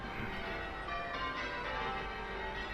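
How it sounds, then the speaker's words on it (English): Church bells ring steadily at a distance in the video game Train Sim World 3, a dense wash of overlapping chimes sustained throughout without pause. "There's the church bells."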